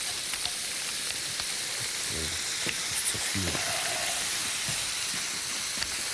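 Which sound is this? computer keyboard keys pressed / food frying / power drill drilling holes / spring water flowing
food frying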